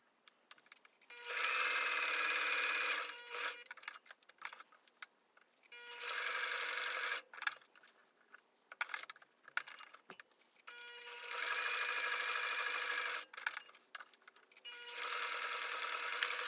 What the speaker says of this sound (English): I'll start it with a lock stitch and then go all the way around